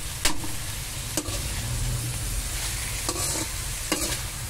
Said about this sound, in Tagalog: Habang hinahalo-halo ko guys para ito ay mapantay yung kanyang pagkaluto